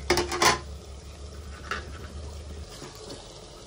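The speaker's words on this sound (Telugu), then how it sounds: "ఇప్పుడు ఒకసారి కర్రీ కలుపుకుందాము." Ladies finger and tomato curry being stirred in a pan, a few soft scraping and clinking strokes early on, then quieter bubbling and faint kitchen noise.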